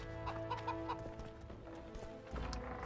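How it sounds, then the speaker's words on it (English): Chickens cluck in The Witcher 2: Assassins of Kings, several short clucks in the first second over ambient game sounds and a low hum, with a soft thud near the end. "Chicken."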